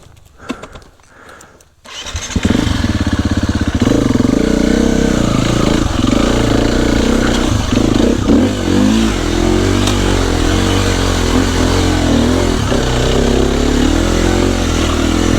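Dirt bike engine on red clay country trail fires up after a quiet moment, then runs steadily loud and close with repeated revving, its throaty drone continuing to the end with no talking.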